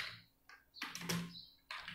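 Keys tapped on a computer keyboard while a command is entered in a code editor's terminal, a few quiet clicks and short bursts spread across two seconds, fairly close and alone without speech.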